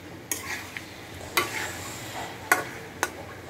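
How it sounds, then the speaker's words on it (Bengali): Spices being stirred in a pan for a taro and fish curry, with a few distinct scraping strokes spaced apart over a soft steady sizzle, close by and moderately quiet. "আমি সুন্দর করে মশলাগুলি নেড়ে চেড়ে নিব"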